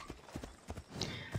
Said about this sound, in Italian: Cavallo.